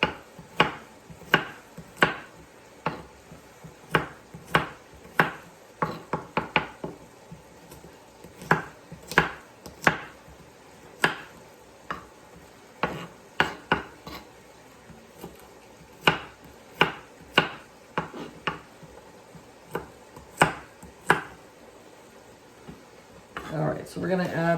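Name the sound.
chopping food for enchilada casserole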